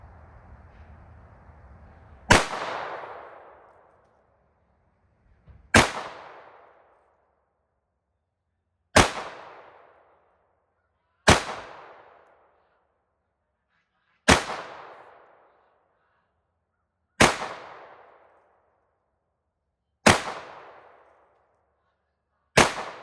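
Glock 17L pistol fired at a shooting range: eight loud, sharp single shots at roughly three-second intervals, each cracking out and fading into a short echoing tail.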